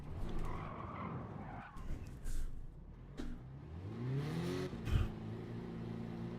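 Car spinning and skidding in Gran Turismo 7, with repeated tire squeal and revving engine bursts that rise and fall, sliding round in loops with brief sharp screeches near the end.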